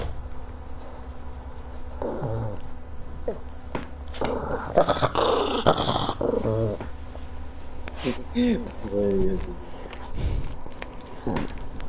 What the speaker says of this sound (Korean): 강아지가 짜증내요